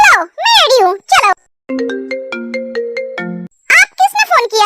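A phone ringtone for an incoming call plays as a bright electronic melody of repeated tonal notes, loud and close, between stretches of people talking.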